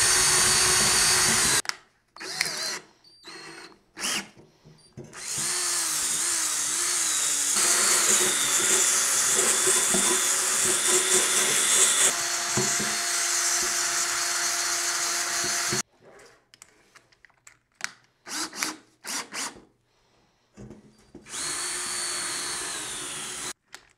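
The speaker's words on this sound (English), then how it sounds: "now let's go to work with the drill and the wire wheel first" A drill spinning a wire wheel scrubs corrosion off a dirt bike exhaust: loud, gritty, high-pitched whirring in long runs, its pitch shifting under load, broken by short bursts and brief stops.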